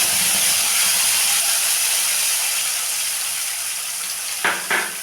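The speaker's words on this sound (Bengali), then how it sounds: "তা আবার তেল নিয়ে নিলাম দিলাম শুকনো লঙ্কা তেজপাতা আর দিলাম গোটা জিরে ফোড়ন" Dry red chilli, bay leaf and whole cumin sizzle in hot oil, a loud, steady hissing spatter throughout, with two brief clinks near the end.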